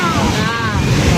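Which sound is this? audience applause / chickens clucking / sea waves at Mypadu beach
sea waves at Mypadu beach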